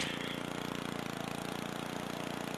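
A lawn mower engine in the video game Happy Wheels drones steadily and evenly throughout, a continuous mid-pitched motor hum with no pauses.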